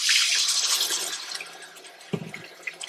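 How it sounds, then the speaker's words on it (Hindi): Water is poured into a pot of chicken pulao masala, a loud rushing splash that tapers off, followed by a few softer sloshes and drips near the end. "और उसके बाद जो है इसमें आप ऐड करेंगे पानी"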